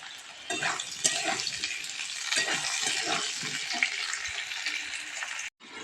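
Potatoes, onion, stalks, eggplant and spices fry in plenty of oil, giving a continuous loud sizzle broken by stirring and scraping, with a brief drop near the end.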